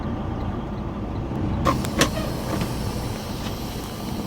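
A manual-transmission car drives with a steady low engine and road rumble from inside the cabin, with a few brief clicks and knocks over it.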